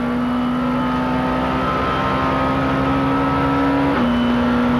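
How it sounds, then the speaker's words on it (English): Onboard a 1995 touring car at Paul Ricard, a loud, steady engine note holds before a quick sequential gearbox downshift drops the pitch near the end as the car brakes hard for a corner. "See the sequential gearbox on these touring cars, slamming it down the box, braking hard for the corner."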